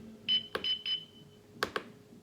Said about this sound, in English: There's like a little button right there that I press and it beeps